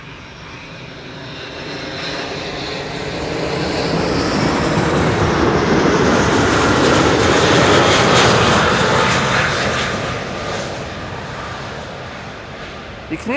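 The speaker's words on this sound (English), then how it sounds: "That's a Boeing 777-200 arriving from San Francisco." A Boeing 777-200 arriving from San Francisco lands at Schiphol on runway Kaagbaan 06, its broad roaring engine noise swelling steadily to a loud peak mid-pass and then slowly fading. No one speaks over it.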